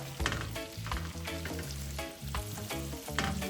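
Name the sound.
garlic sizzling in a pan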